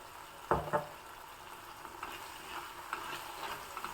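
Sambar being stirred in a pot, with two quick scraping knocks of a spoon near the start and then a soft, steady simmering hiss, close and quiet.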